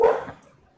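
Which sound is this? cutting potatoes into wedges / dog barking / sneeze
dog barking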